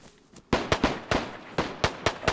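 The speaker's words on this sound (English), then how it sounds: "Some gunfire over here." Sharp cracking gunshots from the video game DayZ pop in an irregular burst, about eight shots over two seconds, sounding moderately distant with slight echo.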